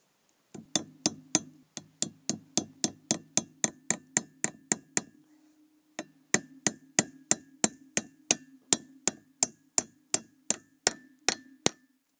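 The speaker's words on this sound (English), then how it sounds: "I'm gonna hammer it through this way." A hammer strikes metal while driving a homemade spear hook through, a steady run of bright ringing clangs at an even pace, a brief pause, then another run of evenly spaced blows, close and clear with no talking.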